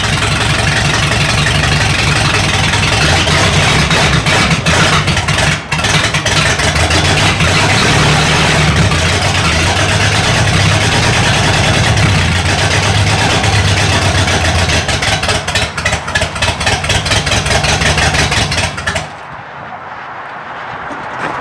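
A junkyard 1978 Mercury Marquis V8 runs for the first time in 30 years, a loud, rough, steady engine roar with pulsing low rumble that holds for most of the stretch, then cuts off abruptly near the end.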